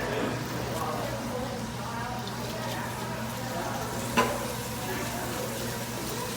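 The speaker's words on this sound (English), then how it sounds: "Now as I cook this, I'm going to be rendering the fat from the bacon" Bacon and sausage frying in a pan, a steady broadband sizzle throughout with one brief clink of a utensil, while a person talks over it.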